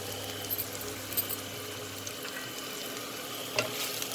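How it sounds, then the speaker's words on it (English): Button mushrooms cook in a pan after being covered, giving a steady low sizzle with occasional faint stirring knocks, fairly quiet and close. "We'll just stir it."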